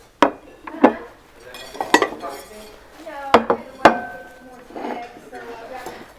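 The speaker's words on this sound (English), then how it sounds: "I have my silverware, but I don't think I have enough forks for this to work" Metal silverware and forks clatter and clink in sharp, separate bursts while a vintage booth is being set up, the handling sounding close and irregular with quieter shuffling between the louder hits.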